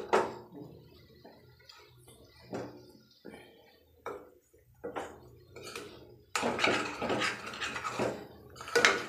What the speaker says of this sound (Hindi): अब मैं इसको अच्छे से मिला दूंगी